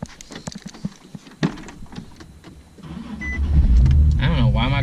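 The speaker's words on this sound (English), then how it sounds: "I don't know why my car wasn't starting right." A Nissan 370Z engine cranks and stutters, fails to catch cleanly, then rumbles into a rough idle that grows louder toward the end.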